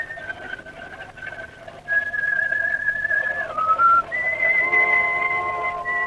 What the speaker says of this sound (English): He'd whistled that tune of his for the last time.